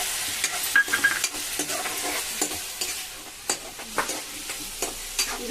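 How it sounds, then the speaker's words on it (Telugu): Ginger-garlic and tomato paste fries in a pan with a soft, continuous sizzle, broken by repeated close scrapes and taps of stirring. "ఇప్పుడు మనం అల్లం వెల్లుల్లిపాయ పేస్ట్ వేసుకుందాము"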